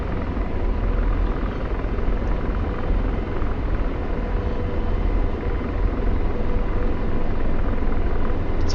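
An AH-64 Apache helicopter in a flight simulator game roars with a steady, loud, broadband rotor and engine drone that holds without pause.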